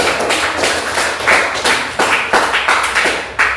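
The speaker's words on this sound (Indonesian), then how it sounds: "Tepuk tangan dulu buat kelompok" A ninth-grade class claps together for a group, sharp close claps falling in a quick regular rhythm, roughly three per second, with little else around them.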